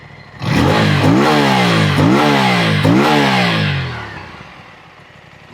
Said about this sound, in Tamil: இது பேரலல் ட்வின் ஆக்சுவலி. ஸோ அதில் இந்த எக்ஸாஸ்ட் நோட் வந்து வேற லெவல்.